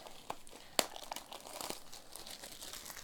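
Plastic shrink wrap crinkling as it is torn off a trading card booster box, with close, scratchy rustling and one sharp tearing snap near the start, no voices.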